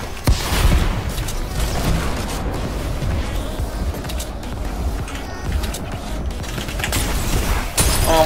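Dense video-game gunfire fills a chaotic match where players shoot at a ball, rapid overlapping shots and bursts forming a constant loud barrage with sharp cracks and heavy booms throughout.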